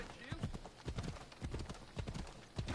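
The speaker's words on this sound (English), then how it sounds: "I just wish the horse can just run a little faster at the moment. Like it'll run faster eventually, but it's just trotting at the moment." A horse's hooves clip-clop in a steady trotting rhythm in the video game Assassin's Creed Odyssey, with a brief whinny and close, regular thuds.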